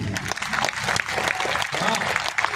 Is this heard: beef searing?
no